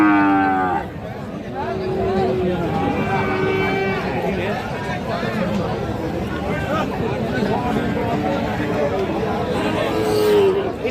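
Cattle low and moo among livestock at a busy rural cattle market in Aftabganj, Bangladesh, where Gir and Sahiwal bull calves are traded; a drawn-out call opens the clip before steady crowd chatter and bargaining voices fill the background.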